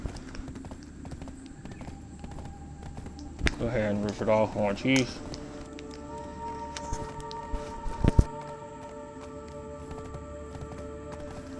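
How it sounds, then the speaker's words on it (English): Horse hooves clip-clop in a short run while riding in the Black Desert video game, set under game background sounds with someone talking over it. "When my horse auto runs to Iron Greed."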